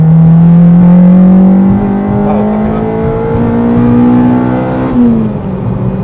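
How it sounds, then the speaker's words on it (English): A mapped Honda Civic Type R EP3 engine revs hard into VTEC, a loud continuous rising wail that climbs steadily in pitch, steps up sharply, then dips briefly as it shifts before pulling again, heard from inside the car. "That was really strange how it went into Vtec sort of straight away."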